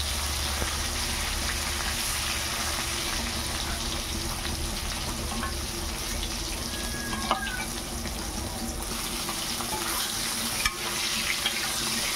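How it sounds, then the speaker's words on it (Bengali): Steady sizzling of pointed gourd frying in a pan with oil, continuous and close, with occasional faint clinks and scrapes. "আর পটলগুলো ভাজিয়ে নেব।"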